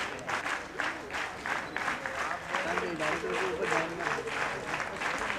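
Audience applause at a national Sanskrit song competition event, loud dense clapping from a crowd throughout, with a voice speaking over it.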